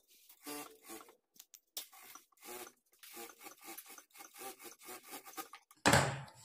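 A sewing machine stitches along the edge of a lined blouse waistband in short, quiet bursts of rapid clattering with brief pauses between, ending in a louder rustle of fabric.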